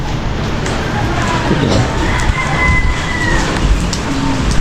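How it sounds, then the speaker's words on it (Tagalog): Steady heavy rain hissing on surfaces, a dense continuous wash of noise with faint voices mixed in underneath. "lumakas na naman yung ulan"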